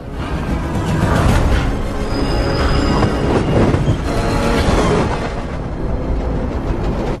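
A train rushes past loudly and close, a dense roaring clatter of wheels on rails swelling and holding throughout.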